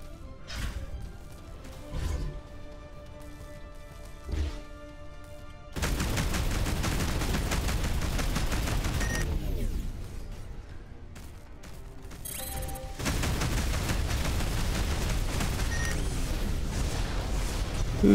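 Sci-fi space combat gunfire in the game Between the Stars, dense loud bursts of shots and impacts in long stretches separated by quieter moments with engine hum and beeps.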